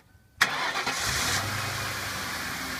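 Ford Crown Victoria V8 cranks and catches after a moment of quiet, then settles into a steady rumbling idle, close and fairly loud, with no talking over it.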